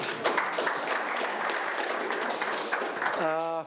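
Audience at a hunting conference gives scattered, modest applause, a busy patter of claps with voices mixed in and a brief tonal sound at the end.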